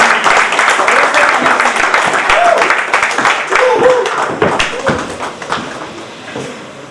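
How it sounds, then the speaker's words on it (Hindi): An audience at a public event in Darbhanga claps to welcome a guest onto the stage, steady applause that thins out toward the end, with a voice speaking over it. "प्लीज मैम आप आए, तालियां से स्वागत करें प्लीज"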